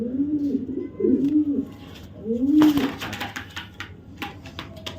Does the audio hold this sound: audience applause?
no